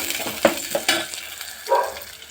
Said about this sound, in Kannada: ಜೀರಿಗೆ, ಸ್ವಲ್ಪ ಮೆಂತ್ಯವು ಹಾಕಿ ಫ್ರೈ ಮಾಡಬೇಕು.